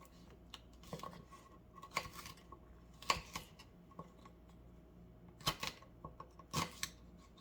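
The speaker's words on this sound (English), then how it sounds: "I'm going to try to actually either cut or poke holes in these" Hot peppers being cut and poked with a paring knife on a board, heard as sparse, quiet clicks and taps scattered at irregular intervals, with a few sharper knocks standing out over faint background hiss.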